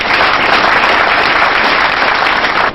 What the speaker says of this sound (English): please once again give a round of applause to our immediate past president.